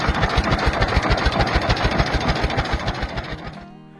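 An old Titan 1020 tractor engine runs with a steady, rapid low chugging pulse, close and fairly loud, then fades and stops just before the end.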